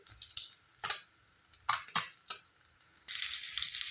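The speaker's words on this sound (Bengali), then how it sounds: "এইভাবে মাছগুলো লাল লাল করে ভেজে নিতে হবে।" Ganges Morla fish sizzle and spit in hot oil in a pan as they fry until reddish, with intermittent crackling bursts and clinks, then a louder, continuous sizzle toward the end.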